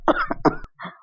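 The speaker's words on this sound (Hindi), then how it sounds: "अचानक नानी के खांसने की आवाज आई।" An elderly woman coughs a few times in quick succession, close and clear, followed by a brief throat sound.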